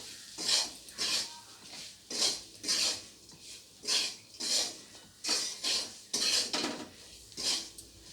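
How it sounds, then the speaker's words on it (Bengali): A spoon scrapes and clatters rhythmically against a pan as spices and onions are stirred and fried for an egg biryani, each stroke a distinct metallic swish, close up with no voices. "তো এবারে সমস্ত মশলাগুলোকে পেঁয়াজের সাথে একটু ভেজে নেব নেড়ে চেড়ে"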